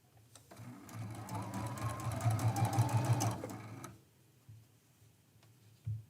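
Sewing machine stitching a quilt seam for a medallion mystery quilt, a steady rapid mechanical ticking run of about three seconds that stops, followed by faint handling clicks.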